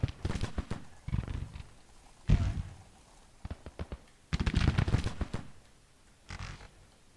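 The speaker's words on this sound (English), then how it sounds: "Rifle fire is already flaring up." Rifle fire crackles across a Civil War battle in the strategy game Grand Tactician, loose bursts of overlapping shots in clustered volleys with short quiet gaps between them.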